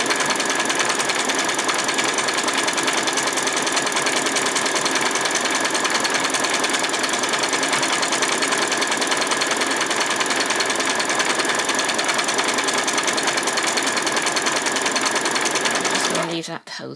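Close and loud, a sewing machine zigzag-stitches continuously around the edge of a small doll's skirt, a dense, unbroken mechanical whirr that runs for over fifteen seconds before halting abruptly.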